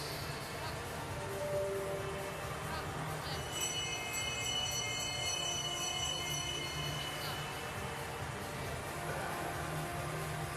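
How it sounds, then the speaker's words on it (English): A bell rings at a speed skating race on an ice rink, a sustained ringing tone rising in from the middle of the clip and fading out near the end, over a steady hum of ambient hall noise. "the bell works again, so we are ready for the next couple of races"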